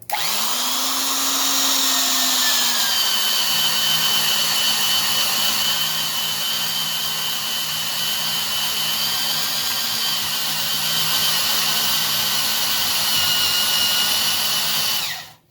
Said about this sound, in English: drilling comparison here with our 1 1/4 inch ship auger at 350 RPM